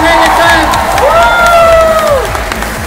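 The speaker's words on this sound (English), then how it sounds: "can we get a round of applause for Zweii here?" A crowd at a Tekken 8 esports tournament bursts into cheering and applause, loud and close, with shouts and whoops rising over the clapping.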